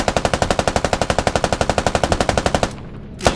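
Rapid, evenly spaced bursts of a helicopter door gunner's machine gun in a combat video game, loud and close, firing nonstop for nearly three seconds before cutting out, then one more short burst.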